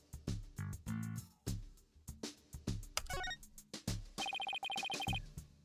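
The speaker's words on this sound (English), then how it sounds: "Who was that phone call from?" A phone rings in the Phoenix Wright: Ace Attorney Dual Destinies video game, a bright electronic ringtone with repeated tonal bursts amid choppy game music and effects, loud and close.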